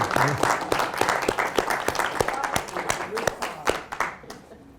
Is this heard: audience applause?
yes